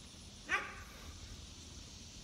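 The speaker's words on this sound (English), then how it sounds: "Look at that motherfucking dog." A leashed dog lets out one brief, moderately distant bark over low outdoor background noise, with a faint hint of another at the very end.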